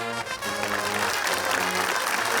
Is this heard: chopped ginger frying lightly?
no